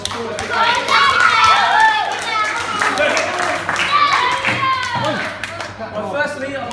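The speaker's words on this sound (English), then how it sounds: "let's give all the parents and supporters a big round of applause." A round of applause for parents and supporters at an under-7s sporting presentation, clapping hands ringing out among scattered children's voices and chatter in the room.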